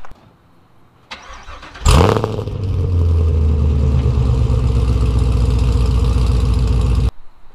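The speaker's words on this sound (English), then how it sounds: "we picked up a couple more decibels on a cold start" A 2017 Chevrolet Camaro SS V8 with aftermarket ARH connection pipes cranks and fires up on a cold start with a loud roar, then settles into a steady, deep, rumbling idle for several seconds before cutting out.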